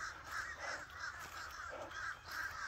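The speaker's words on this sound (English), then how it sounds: "Man, that's a whole bunch of birds." A flock of birds at a Florida nature preserve calls in repeated harsh, crow-like caws, several voices overlapping in a steady pulsing chorus over outdoor background noise.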